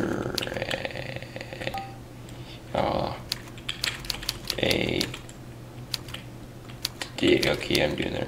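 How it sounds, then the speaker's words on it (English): Typing on a computer keyboard during a typing practice session: brisk, close key clatter in bursts with short pauses, broken by a few louder blips from the practice program. "Hold the J key while typing in this little note."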